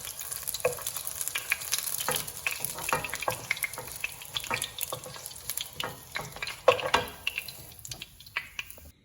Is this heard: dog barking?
no